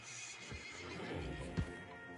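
A horse in the video game Red Dead Redemption gives a quiet whinny with soft hoof clip-clops, faint and brief, with no voices.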